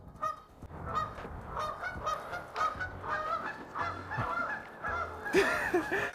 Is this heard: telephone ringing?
no